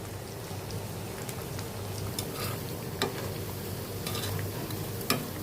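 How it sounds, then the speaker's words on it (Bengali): Onion fritters (peyaju) bubble in hot oil, a steady soft sizzle with scattered light crackles and occasional utensil ticks close by, no one talking. "পেঁয়াজু ভাজা হয়ে গেছে।"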